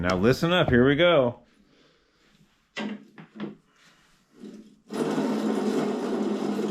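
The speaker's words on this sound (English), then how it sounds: "this is the sound of cones that are not going to be reused again" Metal cones being pounded out of a bicycle crank on a 1975 Schwinn Suburban 5-speed give a few sharp knocks in a loose, uneven cluster, then a long, steady scraping grind, with someone speaking just before.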